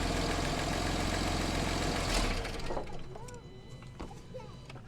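Jeep engine idling with a sensor unhooked, loud steady rumble that drops lower partway through, with people talking nearby.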